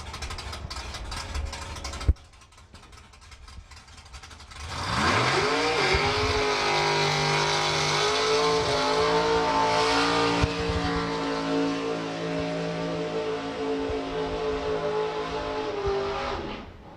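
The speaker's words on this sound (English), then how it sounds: "without a shadow of a doubt, the burnout of the day so far for Colin Miller." A drag racing car at a drag strip doing a long burnout, opening with a sharp bang and low rumble before the engine screams up into a loud, sustained high-revving roar with tire noise that holds for about twelve seconds, with no talking over it.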